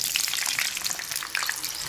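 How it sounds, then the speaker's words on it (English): Potatoes cut into long, semi-long pieces fry in hot oil, giving a close, bright, continuous sizzle with small crackling pops throughout and no voices. "I've cut the potato long, semi-long, and now we shall add this in our oil."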